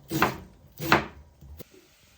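Vegetables chopped with a knife on a board, two firm thuds followed by a lighter third cut, close and clear with no talk.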